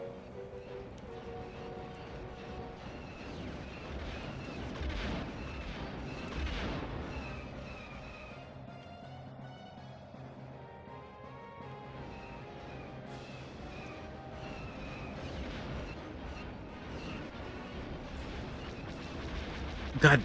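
Torpedo launches and explosions in the Star Wars Rogue Squadron video game, heard as a continuous rumble of booming blasts and engine roar with swelling surges, dense and mid-loud, plus a faint game voice partway through.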